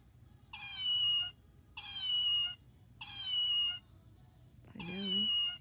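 A kitten meows four times in a steady series, each cry drawn out and fairly loud, with a quiet background hum between calls.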